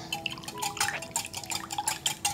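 Oil and water whisked together by hand for banana bread batter, giving quick, rapid liquid clinks and splashes against a bowl, close and continuous.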